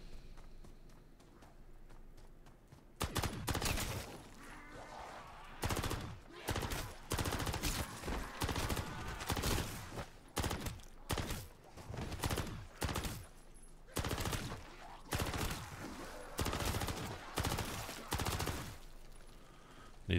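Bursts of automatic rifle fire in Call of Duty MW3 Zombies, loud repeated volleys with short gaps between them, heard alone after a quieter opening.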